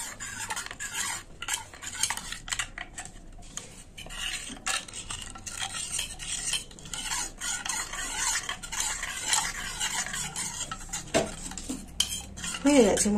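A spoon stirs ground coriander, chili and turmeric into water to make a masala paste, quick clinking and scraping against the bowl in an irregular close rhythm, with faint rooster crowing in the background.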